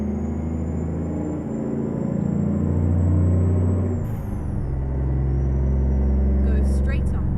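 An International 9800 cabover truck in American Truck Simulator drones under heavy throttle with a deep, steady engine rumble. The pitch dips partway through as it hunts for a gear, and a voice talks over it.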